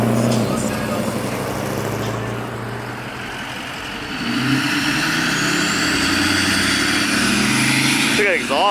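Car engine revving hard during a burnout at a car meet, a loud sustained rumble with rising revs throughout, people shouting and talking over it in a crowded outdoor setting.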